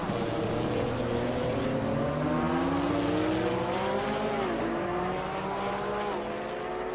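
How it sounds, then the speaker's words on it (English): Race cars sweep past on the Spa circuit in a multiclass Assetto Corsa Competizione race, a dense overlapping drone of engines with pitch rising and falling as traffic moves through, steady and loud throughout. "Traffic moving through."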